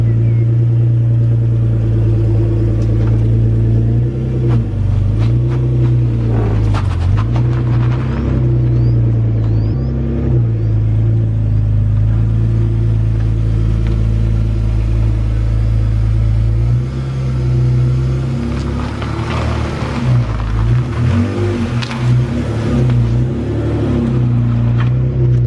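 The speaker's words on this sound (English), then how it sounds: "as you probably heard, it scraped just a little bit, or rubbed just a little bit, but nowhere near as bad as it used to be" BMW E46 323ci on a drift build with rolled rear guards, driving out of a driveway and turning; a steady, loud engine rumble with light revving throughout, and faint intermittent scraping where the tyres rub on the rear guards.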